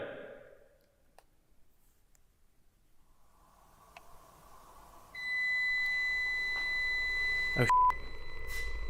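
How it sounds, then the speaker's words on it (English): A faint electronic beep tone, like a microwave, sounds steadily in a quiet room over a low background hum, with a sharp click near the end and a brief voice at the start. "Sounds like a microwave beep going"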